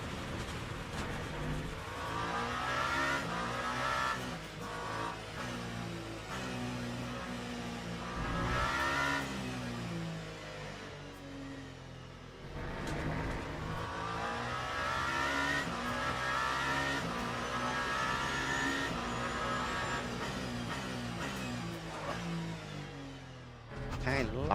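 Race car engine in a racing video game at Imola, driven on cold tires during an out lap, revving and stuttering continuously for the whole stretch, loud and steady with rising and falling pitch and occasional tire squeal.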